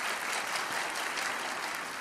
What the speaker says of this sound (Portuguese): você que está aplaudindo